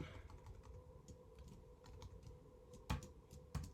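Soft, quiet typing on a computer keyboard while entering figures into a Google Sheets dashboard, with scattered light key taps and a couple of sharper clacks near the end.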